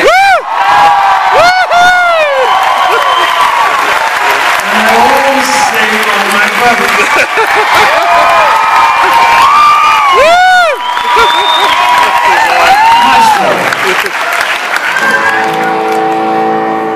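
A theater audience applauds and cheers loudly at a curtain call on a birthday night after a musical about shipyard workers, sustained clapping with whoops and shouts rising through the crowd, a voice speaking over it near the start.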